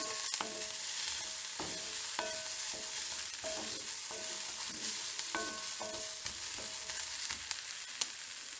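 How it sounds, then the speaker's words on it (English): Chilli and ginger sizzle steadily in a hot pan, with repeated scrapes and taps of a spoon stirring through the frying for several seconds. "And now we're going to add our chilli and our ginger. And again, give that a stir around."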